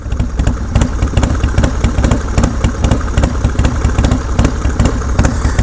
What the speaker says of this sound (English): That's how she starts up in the cold.